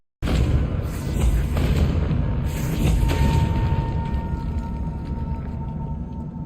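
A Confringo fire spell explodes in Hogwarts Legacy with a sudden loud rumbling burst that rolls into a sustained roaring, crackling blast. A second surge follows and everything fades slowly into a low hum, with no talking.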